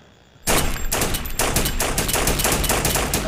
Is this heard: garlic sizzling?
no